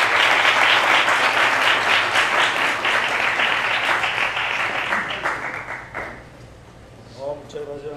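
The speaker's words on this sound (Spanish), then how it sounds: "Aplausos." An audience applauds after a talk on agile project methodologies: loud sustained clapping that gradually thins and dies away, with a voice starting to speak at the end.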